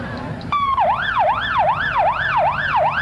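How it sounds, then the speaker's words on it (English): Sheriff and police car sirens wail in a repeating rising-and-falling sweep as the cars pass in a parade, loud and close, heard alone over steady street noise. "There goes the sirens."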